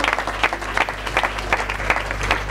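Audience applause after a 1994 FC Metz football match, a dense, continuous patter of many hands clapping at close range with no voices over it.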